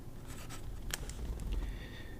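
Nib of a Noodler's Konrad fountain pen, a fairly stiff nib, scratching across paper in short close strokes, with a quiet steady background underneath.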